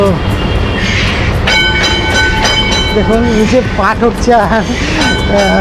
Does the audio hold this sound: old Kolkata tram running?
yes